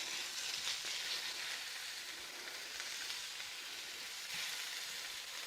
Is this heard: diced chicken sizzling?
yes